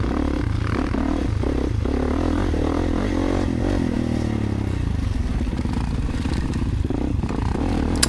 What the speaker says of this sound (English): Riding the 24 KX450, the orange Kawasaki.